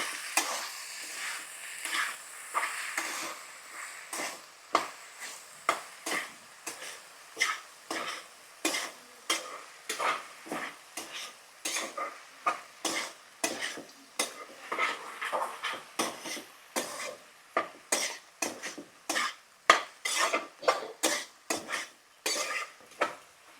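A spoon scrapes and stirs okra (ladies finger) curry in a pan with rapid, repeated clinks and scrapes over a soft background sizzle, steady and close with no talking.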